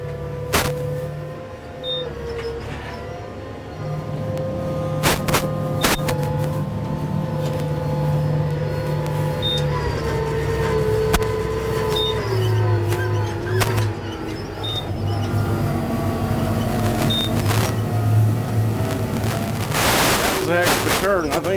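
A tractor pulls a subsoiler through a turn, its engine a steady, continuous drone with shifting pitch as the gears change, while a voice talks faintly underneath.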